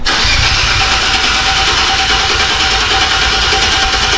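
A VR30 twin-turbo engine fitted with Z1 turbos cranks and fires, then settles into a loud, steady idle recorded close up.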